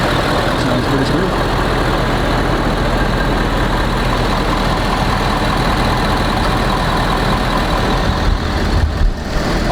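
A 2017 Ford Powerstroke diesel pickup engine idles steadily up close, with a loud, continuous low rumble that holds even throughout.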